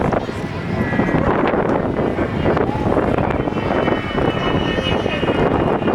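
An Avro Vulcan XH558 bomber roars over Ayr beach at a Scottish air show, its engines giving a loud, steady, broadband howl with wind buffeting the microphone throughout.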